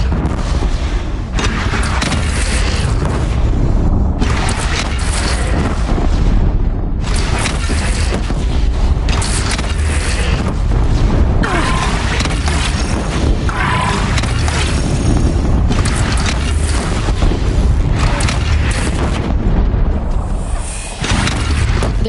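Cannon fire and explosions in the Horizon video game form a dense, continuous barrage of loud booms and crashing blasts with little pause throughout.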